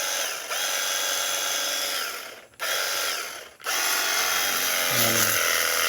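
A battery-powered pressure washer sprays while cleaning a goat house, its motor giving a loud, steady mechanical whine that cuts out twice briefly before resuming, then rises slightly at the end.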